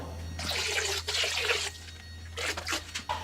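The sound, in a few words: pouring dissolved nutrient solution into hydroponic reservoir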